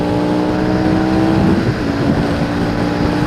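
A 2011 Harley-Davidson Night Rod Special motorcycle engine accelerates with a loud, steady, close roar, building slightly in the middle and holding strong throughout.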